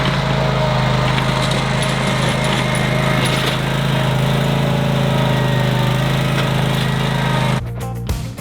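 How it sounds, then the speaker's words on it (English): A Cub Cadet 2X 30 inch EFI snow blower engine runs loud and close with a steady high mechanical drone, cutting off with a few clunks near the end. "let's get the plow out and then we'll get the snowblower going"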